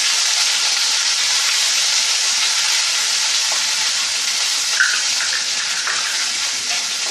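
Ginger garlic paste sizzles hard in hot oil with cumin, nigella and fenugreek seeds, a loud, continuous bright hiss with a few small pops, close by and without talk.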